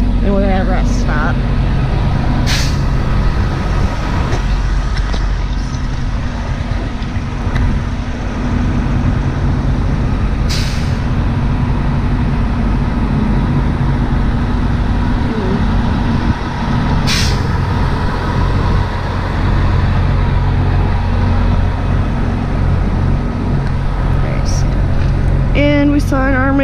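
A highway rest stop in northern Florida hums with idling trucks and passing cars, a steady, loud low rumble with occasional air brake hisses, while people talk over it throughout.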